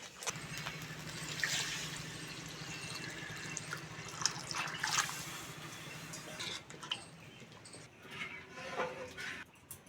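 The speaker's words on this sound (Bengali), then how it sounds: "এবার জল দিয়ে দেবো" Water is poured into a cooking pot for a Bengali bitter gourd dal, a soft splashing and trickling flow with small drips and clatter, fairly faint and continuous.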